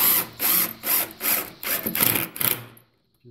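Screws driven into a wooden bench brace with a power driver, heard as about six close, loud whirring bursts in quick succession before stopping, with no speech.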